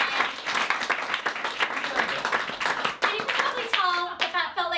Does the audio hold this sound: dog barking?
no